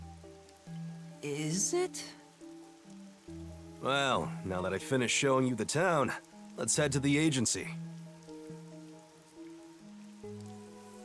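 Steady rainfall patters across a surface in the video game Master Detective Archives: Rain Code, a constant wash running beneath a game soundtrack and spoken dialogue throughout.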